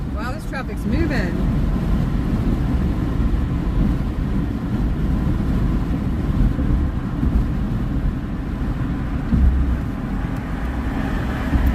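Road traffic passing: a steady, continuous low rumble of vehicles that holds at an even level throughout, without clear individual pass-bys.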